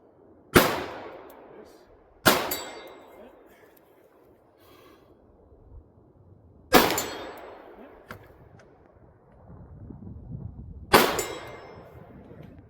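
Four sharp metallic impacts of bullets hitting steel barricade targets ring out at irregular intervals, each followed by a decaying clang, with low rustling and handling noise between them.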